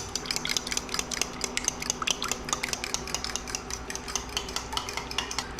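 Eggs and milk whisked together in a bowl, with rapid, rhythmic close-up clinking of a utensil against the bowl throughout and no voices.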